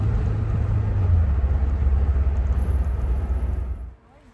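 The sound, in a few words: 1980s Cadillac car driving across the countryside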